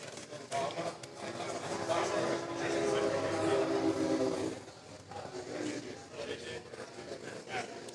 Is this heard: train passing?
yes